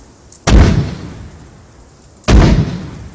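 Artillery ordnance impacts in ARMA 3: two heavy, loud booming explosions about two seconds apart, each a sharp onset with a rumbling decay, no talk.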